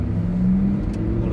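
A Lamborghini and a Ferrari racing each other on a road, their engines revving in a steady close drone with a rising whine.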